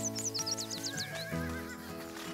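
Horses neigh in a series of high, wavering whinnies, close and clear, while hooves clip-clop lightly beneath, with no talking.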